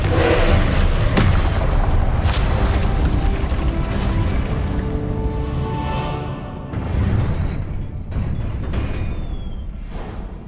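Confringo blasting spells exploding in Hogwarts Legacy gameplay, a loud sustained series of booming blasts with crackling debris, dense and close, easing slightly toward the end before another burst.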